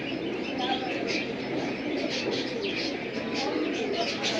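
Pigeons from a new collection coo softly through a steady, dense bed of loft noise, low murmuring calls repeating with no clear gaps.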